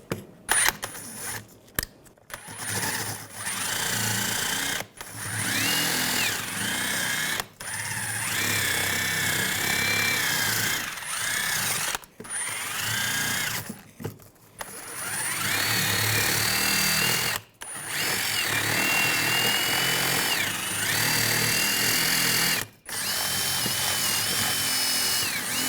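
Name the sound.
wire brush cleaning corrosion off brake caliper bracket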